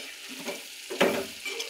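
Hilsa fish and potato curry seasoned with turmeric and chilli powder being stirred in a pan, giving a soft scraping stir with low sizzling, a sharper clatter near the one-second mark, and no speech.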